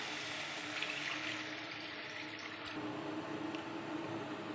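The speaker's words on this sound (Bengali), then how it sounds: "এবার আমি দিয়ে দেব জল" Water poured into a pot of oil-separated spiced masala while cooking Kolkata-style egg biryani, a steady broad rushing and splashing pour lasting the whole stretch, close and fairly loud with no talk.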